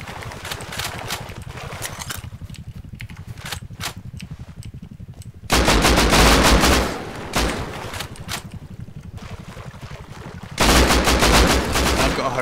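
Gunfire in the video game Rust, rapid automatic bursts repeating in loud dense volleys, with quieter stretches of scattered shots between them.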